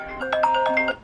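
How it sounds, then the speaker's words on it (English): A short melodic phone alarm tone chimes a quick run of bright notes, clear and close, heard on its own. "oh, that's my alarm."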